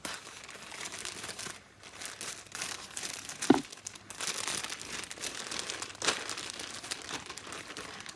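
Crinkly plastic packaging is torn and pulled open by hand at close range, giving continuous rustling and crackling with a few sharper rips and crunches.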